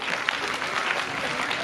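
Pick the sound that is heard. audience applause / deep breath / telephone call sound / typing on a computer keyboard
audience applause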